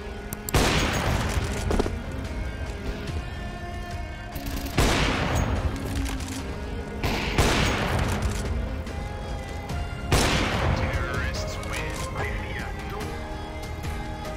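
Counter-Strike 2 match gunfire: four loud bursts of rapid shots and impacts about every two to three seconds, with an ongoing clatter of game effects between them.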